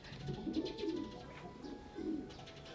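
A pigeon coos softly in a few low, bubbling phrases, with faint chirps and a quiet background.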